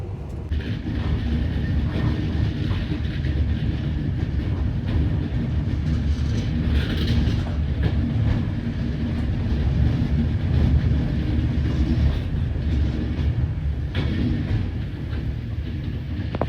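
Inside an Avanti West Coast train rolling slowly through Stafford, a steady low cabin rumble carries soft wheel and track noise, with a few faint higher whines and no voices.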